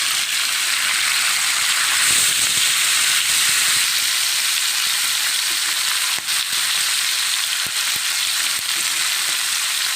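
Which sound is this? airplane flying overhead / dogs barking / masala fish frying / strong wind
masala fish frying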